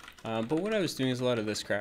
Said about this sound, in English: sorry if you hear any keyboard smashing in the background